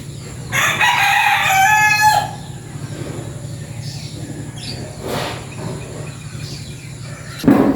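A rooster crows loudly once nearby, followed by a quieter stretch of low background hum with faint distant clucks and a sharp sound at the end.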